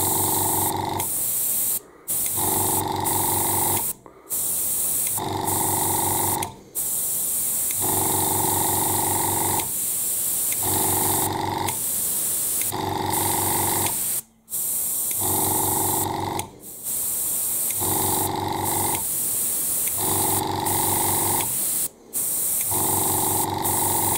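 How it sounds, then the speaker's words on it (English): Dual action gravity-feed airbrush spraying paint in short bursts of hissing air, each burst a second or two long with brief gaps between, steady and close, no voices. "Now I'm going to spray some little dots into the squares marked on the grid."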